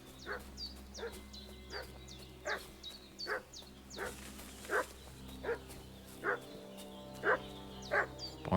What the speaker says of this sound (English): Barking like a Hungarian dog.